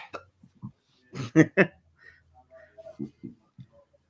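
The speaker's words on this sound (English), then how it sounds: "I have hiccups now." A man on a sports talk podcast hiccups: a few sharp, close bursts clustered near the middle, among scattered short vocal sounds and small noises.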